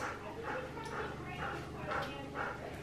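A puppy whimpers and yips in short, repeated bursts about every half second, close and fairly soft, over a faint murmuring voice indoors.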